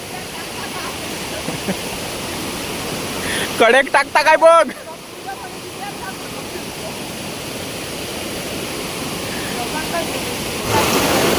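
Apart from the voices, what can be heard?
rushing stream water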